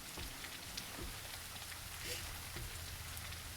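Rain in the soulslike game Bleak Faith: Forsaken, a dense continuous hiss with a few scattered soft knocks, moderately quiet and steady throughout.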